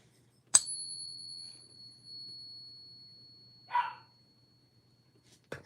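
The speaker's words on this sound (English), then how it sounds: "my puppy just went crazy because of the ringing" A single short puppy bark or yelp rings out midway, following a sharp metallic ring from a silver piece that hangs as a sustained tone; otherwise quiet.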